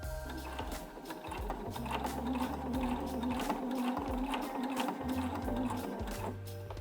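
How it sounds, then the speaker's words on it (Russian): A sewing machine runs steadily as it stitches the hem of a pair of jeans, a close, continuous mechanical whir with a rhythmic needle clatter, over background music. "Начинать прокладывать строчку я буду со стороны шагового шва, чтобы по всей окружности, в том числе и по боковому шву, не было закрепок"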